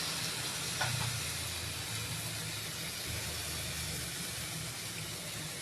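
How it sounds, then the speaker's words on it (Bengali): Chicken sautéing in a pan over a medium flame gives a steady, quiet sizzle and hiss that runs unbroken throughout, with no voices. "এ দেখো ভালো করে আমি চিকেনের সাথে ভালো করে কষিয়ে নেব।"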